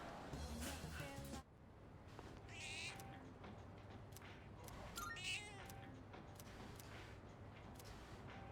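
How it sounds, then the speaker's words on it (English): Video game cat in Persona 3 Reload, meowing a few times quietly within a busy, faint game soundtrack with background effects. "Cat! That's right. Feed the cat."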